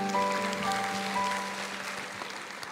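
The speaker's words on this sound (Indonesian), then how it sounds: "Kasih tepuk tangan untuk Tuhan." Applause from a church congregation during a sermon, a fairly soft wash of clapping under sustained organ-like tones that gradually fades over a few seconds.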